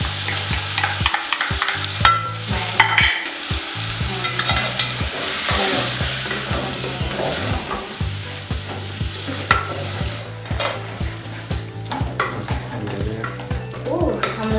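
Beef frying in a pot with chopped tomatoes and tomato paste, stirred with steady scraping strokes over a continuous close sizzle, loud and busy throughout with no voices.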